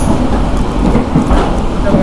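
A passenger train rumbles steadily from inside the carriage, a dense low roar with faint rattles throughout, on a long, cheap overland journey toward Bali.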